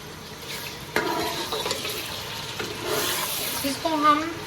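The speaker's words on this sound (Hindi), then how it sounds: "इसको हम डीप ड्राई होने तक इसको इसी तरह से हम फ्राई करेंगे" Mutton mince frying in hot oil in a pan, a steady sizzle with some stirring clatter, moderately close and continuous under a bit of background noise.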